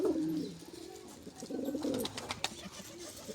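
Pigeons coo nearby in low, throaty, repeated calls, with light clicks and rustling in between and no one talking.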